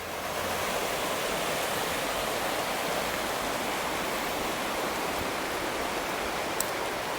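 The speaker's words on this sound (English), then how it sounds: "This is the River Ayr running down to the site of Overmills. This is the old weir that channeled the water towards the mill," The River Ayr in Scotland pours over an old, broken stone mill weir, a steady broadband rush of water that stays even and continuous from start to finish with no voices.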